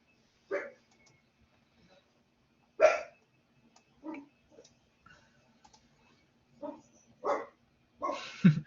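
A dog named Mel barks in short, separate bursts at a vacuum cleaner running in a corridor; roughly seven sharp yaps, moderately close and spaced irregularly over quiet, ending in a quicker flurry.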